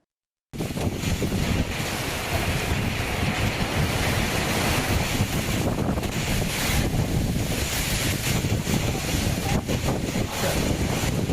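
A strong gale roars during a heavy summer rainstorm in Tamil Nadu, a continuous loud broadband rush that buffets the microphone without pause.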